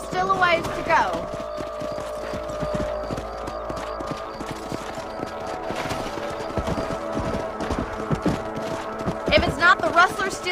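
Horses' hooves clip-clop steadily through Red Dead Redemption 2, a continuous rhythmic patter running under speech and game ambience.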